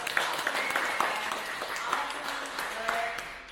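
Applause from a small group at the end of a spine mobility clinic session, steady and moderately loud for a few seconds, with voices mixed in.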